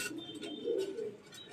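Racing pigeons coo in a loft, a soft low warbling run of coos with a swell in the middle, faint and close, with no talk over it.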